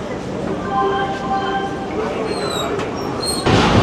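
The Howrah–Digha Tamralipta Express stands at Santragachi station, a broad rumble of rail noise with brief high squeals and clanks, a louder burst near the end, and voices talking over it.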